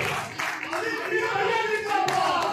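An audience applauds to welcome MP Aditya Yadav at a gathering, a dense, steady patter of clapping close by, lasting the whole stretch with a slight surge near the end.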